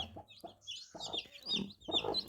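Native village hens cluck in short, repeated bursts, fairly close, on a farm, with higher chirping of their chicks mixed in and no talking.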